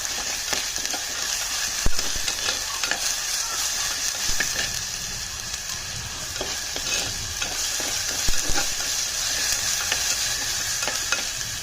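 Steady sizzling of masala frying in a pan for fish curry, with occasional scraping and stirring clicks from a spoon, continuous throughout.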